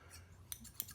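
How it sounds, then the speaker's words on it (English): A pair of scissors squeezed shut during cleaning before sharpening gives two short, crisp metallic snips about a quarter second apart, close and quiet against a low background hum. "And squeeze the scissors together"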